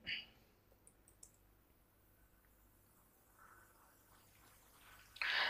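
A few sharp computer mouse clicks sound near the start, faint and close against quiet room hiss, followed by a louder burst of noise at the very end.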